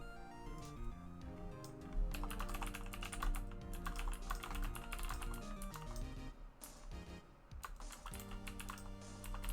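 Rapid keyboard typing with irregular clicks, playing alongside steady tonal music that fills the background throughout.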